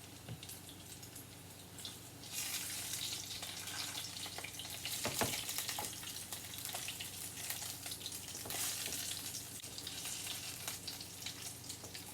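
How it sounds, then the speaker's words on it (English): Chicken croquettes fry in hot oil with a steady, fairly loud sizzle and crackle that runs unbroken, occasional sharper pops and spatters rising above the continuous hiss, with no talking. "they smell so good frying up"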